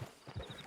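Horse hooves clip-clop in Red Dead Redemption 2, a few soft, muffled thuds in quick uneven succession, brief and moderately quiet.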